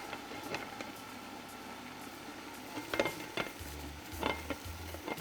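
Clams with white wine or sherry sizzling in a covered pan, a quiet steady hiss with occasional light clinks and pops, heard up close and faint.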